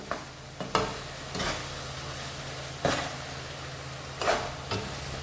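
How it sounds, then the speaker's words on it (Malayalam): Ginger fries in a pan with a constant soft sizzle, while a spoon scrapes through it in several distinct stirring strokes, close and fairly quiet, no one talking. "നല്ലപോലെ ഇളക്കി കൊടുക്കണം ഇത് നല്ല ബ്രൗൺ കളർ ആകുന്നത് വരെ ഇളക്കണം"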